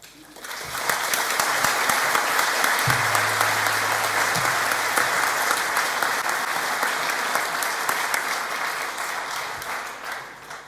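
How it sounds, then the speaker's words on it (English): Graduation audience for aviation and engineering graduates applauds and cheers steadily throughout, a dense, sustained wash of clapping that stays loud and even from start to finish. "The cheering was fantastic"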